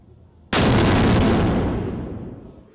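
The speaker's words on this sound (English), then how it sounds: "when this gun goes off" A Civil War cannon fires once, close and very loud, after a quiet moment, and its boom rolls off slowly over the next two seconds.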